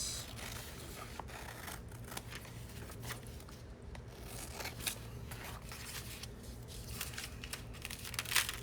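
Scissors trim paper while crafting belly bands and envelopes, giving faint, close snips and papery rustles against a quiet room hum, with no talking.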